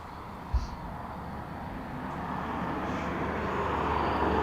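Aircraft taxiing at East Midlands Airport sends a steady, fairly faint engine rumble across the apron, swelling slowly as it nears, with a brief thump near the start and no voices.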